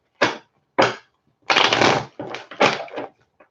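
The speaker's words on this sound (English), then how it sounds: "Those cards need a little bit shaken for you." Tarot cards are riffled and shuffled by hand in a series of crisp, papery bursts: two short flurries, then a longer riffle and a few more quick ones, close and clear with quiet gaps between.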